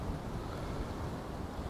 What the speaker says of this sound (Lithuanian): Nes stiprus vėjas yra